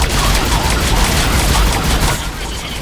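Heavy, continuous gunfire from a Mass Effect 3 Legendary Edition battle near a landing area, a dense roaring wash of shots and blasts that stays loud and unbroken throughout.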